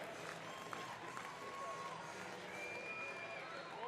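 Faint, steady applause and crowd noise fill a powerlifting competition hall at a military sports event, with a distant hum of the arena around it.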